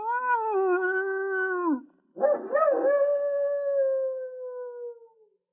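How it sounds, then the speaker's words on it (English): Drawn-out, wavering howls from Dalmatian puppies, close by: one long cry, a brief pause, then another rising yelp that fades away. "It sounds like puppies, sir."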